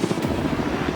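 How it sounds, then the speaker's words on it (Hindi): A helicopter hovering near a private island, lifting people up for jumps: a steady, loud rotor thrum with pulsing low chop, continuous throughout. "ये हेलीकॉप्टर हमारे बॉयज को ऊपर हवा में ले जाएगा"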